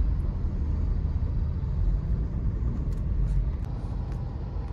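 Steady low road rumble of traffic heard from inside a sedan used for Lalamove deliveries, a continuous engine and tire drone with no talk over it.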